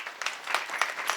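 Audience applause for two kirtan singers during a Marathi devotional kirtan: a short burst of clapping at moderate distance, uneven and swelling in small pulses, with no voices over it.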